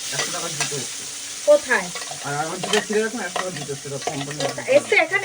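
Spice paste hitting hot oil in a home kitchen while cooking duck eggs with boiled potatoes, giving a close, steady sizzle with bursts of stirring and clattering, no talking.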